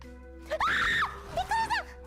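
A VTuber's voice lets out two loud, high-pitched screams in quick succession, the first longer and sustained, the second shorter, over a steady low background hum.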